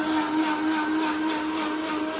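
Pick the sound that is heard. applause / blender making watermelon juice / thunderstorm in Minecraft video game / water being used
blender making watermelon juice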